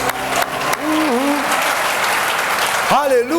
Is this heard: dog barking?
no